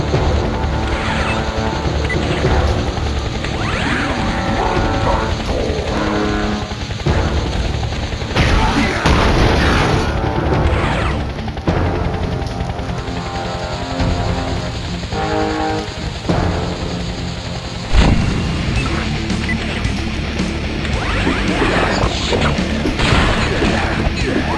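Humongousaur smashing an object in the Ben 10 Alien Force video game, heavy crashes and booming impacts repeating over a loud, busy game soundtrack.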